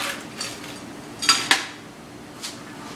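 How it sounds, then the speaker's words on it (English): Ice cubes dropped into a metal cocktail shaker, giving a few sparse, light clinks and clatters with quiet pauses between them, close by and with no talking. "Fill the shaker up about 3/4 full with ice."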